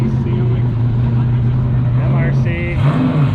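Big race trucks at a racing event rumble steadily past on the parts midway, with a loud, continuous droning engine tone that shifts pitch slightly as vehicles move by. Voices talk over the noise.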